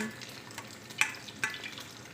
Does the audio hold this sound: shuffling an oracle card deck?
no